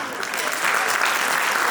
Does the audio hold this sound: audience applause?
yes